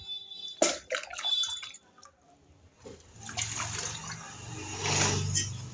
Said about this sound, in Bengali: পাত্রের মধ্যে আমি একটু জল নিয়ে নেব,